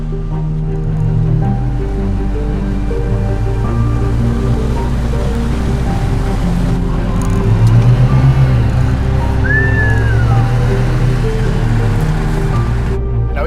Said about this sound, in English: this car is just leaping through the gears nice and easily